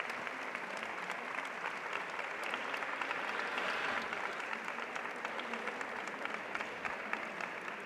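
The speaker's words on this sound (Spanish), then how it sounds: "para la cual nos acompaña Paul Capriotti, para quien pido un aplauso, por favor." An audience at a talk on image, branding and culture breaks into sustained applause, an even, continuous patter of many hands heard at a modest, distant level throughout.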